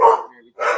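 A pet dog at home barks twice in quick succession, loud and near, during a live internet talk show.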